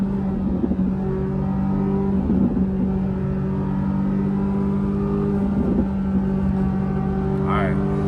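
Low, steady drone of a Corvette C8 Z06 engine and exhaust cruising at night, heard from inside the car, with mild swells in revs and brief voices over the continuous rumble.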